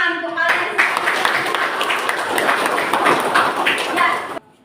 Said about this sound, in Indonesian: beri tepuk tangan untuk kalian